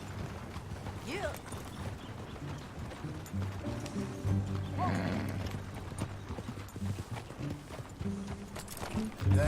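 Horse hooves clip-clop steadily in Red Dead Redemption 2 under ongoing talk, with a neigh and other faint game ambience in the background.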